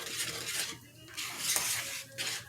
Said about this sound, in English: We're going to whisk this around.